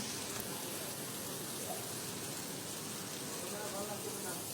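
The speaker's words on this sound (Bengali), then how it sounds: "এখান দিয়ে বৃষ্টি হচ্ছে" Rain falls outdoors in Sylhet during a sunny shower as a steady, faint hiss of dense drops with no distinct voices standing out.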